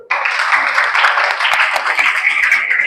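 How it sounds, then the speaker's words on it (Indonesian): A school class bursts into applause during a social studies lesson: brisk, continuous clapping from many pupils starts abruptly and stays loud and close throughout, without talking over it. "Tepuk tangan dulu"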